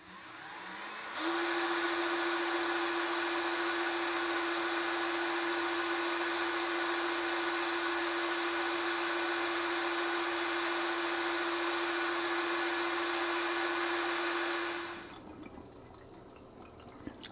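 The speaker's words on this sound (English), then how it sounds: "I can sort of hear the echoing of the drill coming out of the inside of the glass" A steady, high-pitched drill whine boring through glass runs continuously for about fourteen seconds, close and loud with a watery grinding hiss, then stops abruptly.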